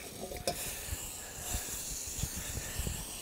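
A good knob of butter sizzles in a hot pan over a fire while steak stroganoff is cooked, giving a steady, moderately loud hiss with small pops and crackles scattered through it.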